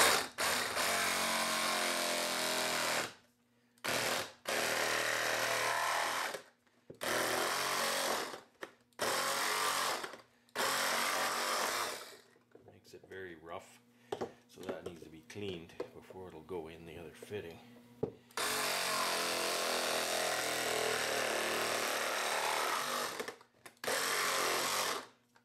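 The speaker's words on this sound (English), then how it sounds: "This is just a power hacksaw." A power hacksaw cuts in a workshop in repeated loud bursts of buzzing, rasping strokes separated by short pauses, with a longer steady run near the end.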